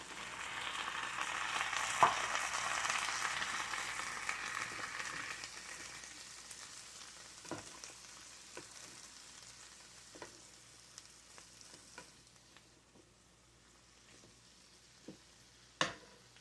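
Hot vegetable broth hits red cabbage in a pan for a German Rotkohl side dish, sizzling loudly at first and fading to a quieter simmer with a few sharp stirring clinks.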